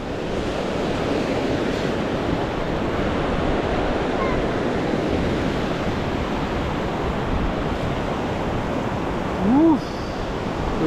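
A rushing Seena waterfall roars as a steady, dense wash of falling water in a cold setting, loud and continuous throughout, with a brief faint voice near the end.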